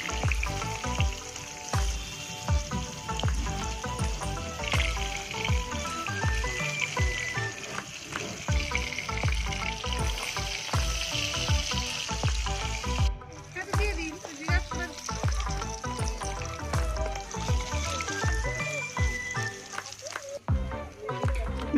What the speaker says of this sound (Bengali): মাছগুলো উল্টে পাল্টিয়ে ভালোভাবে ভেজে নেব।